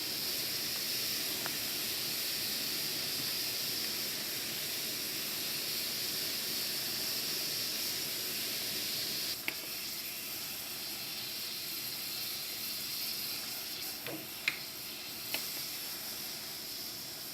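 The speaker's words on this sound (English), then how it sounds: "you can see steam starting to rise from the droplets of water" A steady, soft hiss of water droplets sizzling on a hot pan (Leidenfrost effect) continues throughout, with a few faint ticks and pops near the end.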